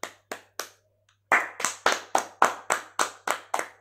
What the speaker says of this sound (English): Come on, come on, clap for Josh